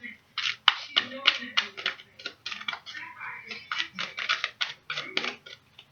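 Quick papery riffling and clicking of cards being shuffled, steady and close, in short repeated bursts.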